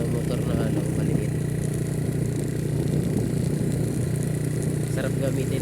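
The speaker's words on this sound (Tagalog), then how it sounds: "motor na Mio Soul" A Yamaha Mio Soul motorcycle engine runs steadily on a ride near Nasugbu, Batangas, a close, even mid-pitched drone with someone talking over it throughout.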